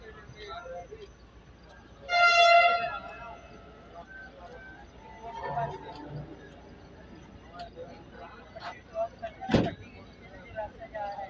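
The 152 Down Shah Latif Express, hauled by an EMD diesel locomotive, pulls out of Malir railway station with a loud horn blast, then engine rumble and clanks as it moves off, with someone talking over it.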